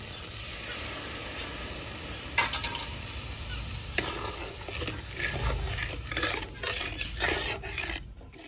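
Black and white mustard paste goes into a hot pan of oil for a fish curry: a low, steady sizzle with a couple of sharp clatters, then louder bubbling and scraping toward the end, close up with no talk.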